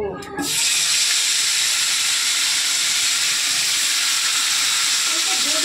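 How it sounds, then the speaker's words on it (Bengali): Fish fries in hot oil for a home-cooked meal. After a short clatter, a loud, close, continuous hiss of oil sets in and holds steady to the end. "আমি মাছগুলো ভেজে নিই আগে, তারপরে বেগুনটা ভাজবো"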